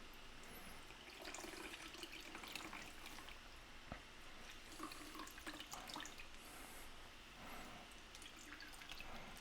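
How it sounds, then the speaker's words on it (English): Water drips and trickles steadily from a soaked towel onto the floor beside knife-sharpening stones, a continuous close wet patter with scattered louder drops. "You can start to tell when it starts to drip onto the floor."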